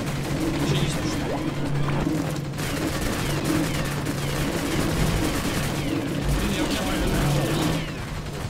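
A placed gun turret keeps firing in the sci-fi shooter Orion: Prelude, a dense, steady barrage of rapid shots and crashing impacts that runs for the whole stretch with hardly a pause.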